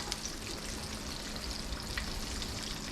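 Pork loin chicken fried steak frying in a pan, a soft steady crackle and sizzle with scattered tiny pops, fairly quiet and continuous.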